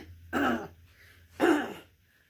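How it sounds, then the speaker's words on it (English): A woman clears her throat twice, two short raspy rumbles about a second apart, close and fairly quiet in an indoor room. "Sorry about clearing my throat"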